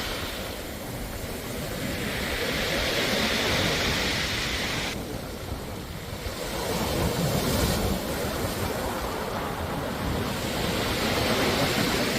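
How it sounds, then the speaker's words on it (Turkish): Sea waves wash over a pebble beach on the Çeşme Peninsula, a loud, steady roar of surf and rattling stones that swells and eases in slow cycles, with no voices. "Bayağı da dalgalıymış."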